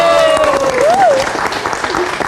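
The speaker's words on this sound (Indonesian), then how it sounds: "Mana tepuk tangannya?" An audience at an Indonesian talk show breaks into brief, loud clapping, with a sliding whistle-like tone cutting across the start of the applause.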